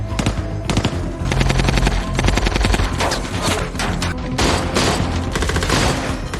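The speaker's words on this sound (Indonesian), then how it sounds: "baku tembak pun terjadi" An action-film gunfight against Russian gangsters erupts in sustained, rapid automatic gunfire, loud overlapping bursts and volleys rattling almost without pause.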